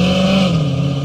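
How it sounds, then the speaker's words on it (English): A loud GT sports car engine revving close by, a dense continuous roar with a steady low pitch that dips slightly, heard alone without talk. "Sorry, there's a guy in a GT next to me. Very loud."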